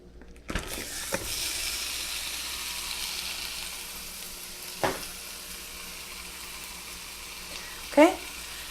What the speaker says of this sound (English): our ground turkey is cooking